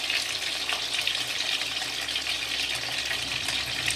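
Sweet and sour chicken wings fry in a pan over medium-high heat, giving a steady, dense sizzle with a watery hiss. It runs close and continuous, with no talk.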